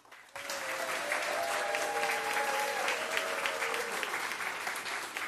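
Audience applause for a CRA board chair being introduced at a community charrette, a dense, steady clapping from a full room that starts abruptly and holds at an even level throughout, with a faint tonal hum running beneath.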